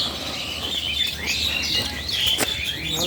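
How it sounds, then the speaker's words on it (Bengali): Small birds chirp and tweet outdoors in quick, scattered high calls that come fairly close, over a steady background hiss, with no one talking. "পাখি"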